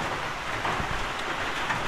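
Rain falls steadily over an outdoor vegetable garden growing okra, alugbati and kangkong, making a soft, even hiss with faint scattered patter and no voices.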